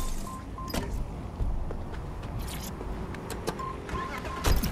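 Car sounds in Watch Dogs: Legion: a door clunk, faint mechanical whirs and a steady low engine hum, with a couple of sharper clicks and thumps near the end.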